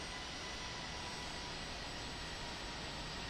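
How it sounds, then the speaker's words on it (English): A jet aircraft, likely a regional airliner, runs steadily at an airport as a continuous broadband engine roar, fairly quiet and distant, with no voices. "That jet does not sound loud at all."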